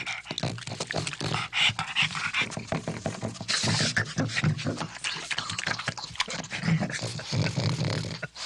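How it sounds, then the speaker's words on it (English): A pug dog eating, close up, with steady wet chewing, smacking and snuffling throughout and a brief louder burst partway through. "it's a four-legged creature eating something"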